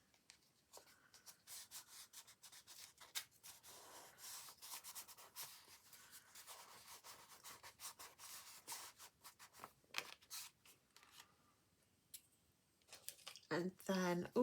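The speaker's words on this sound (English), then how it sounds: "With my trusty glue stick." Glue stick rubbed back and forth across paper in a traveler's notebook, a soft, close scraping swish in repeated strokes, with light handling and paper rustles throughout.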